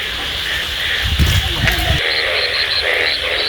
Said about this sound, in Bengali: আর রাত্রিতে যখন ব্যাঙের ডাক শুনবো